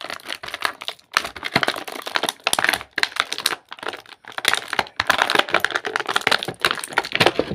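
Crinkling and crackling of plastic and cardboard packaging being handled for a Marvel Legends Deadpool and Wolverine action figure, close and continuous with brief pauses, no talking.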